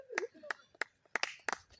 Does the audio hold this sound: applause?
yes